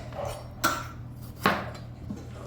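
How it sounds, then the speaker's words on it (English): A few sharp knife chops through habanero peppers on a board, spaced unevenly over steady background hum, fairly close. "cutting up the habanero peppers"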